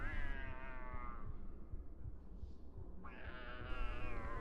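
A cat meows in the Harry Potter and the Philosopher's Stone video game, two drawn-out, clear meows separated by a short pause, close and loud over a low background rumble.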